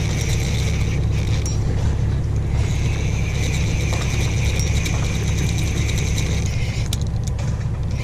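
A budget fishing reel winds line onto its spool while the drag clicks in a fast, continuous ratcheting chatter that stays steady and close for the whole stretch.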